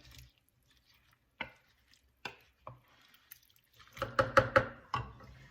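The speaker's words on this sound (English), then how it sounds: "Gonna do a little stir." Garlic being stirred into a crockpot beef and vegetable soup: sparse soft clinks and scrapes of a spoon at first, then a cluster of wet, clattering stirs against the pot toward the end.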